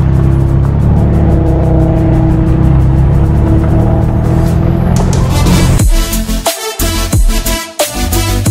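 A BMW M3 CS engine roars loudly and continuously with a deep rumbling growl, revving before shifting into sharper bursts near the end.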